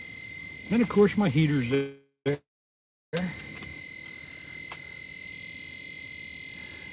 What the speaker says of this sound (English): The beeping is annoying.